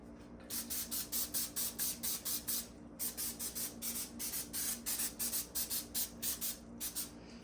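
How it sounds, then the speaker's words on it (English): Repeated short hissing bursts of cooking spray onto a turkey, close up, fired in quick rhythmic pumps with a brief pause partway through. "The next step is to hit it with some cooking spray."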